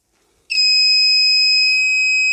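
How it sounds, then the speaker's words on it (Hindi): A shrill continuous beep switches on abruptly from an analog multimeter buzzer set to the continuity range while testing a resistor, loud and steady, held to the end. "इसको मैं सेट कर लेता हूँ अभी बजर की रेंज पे"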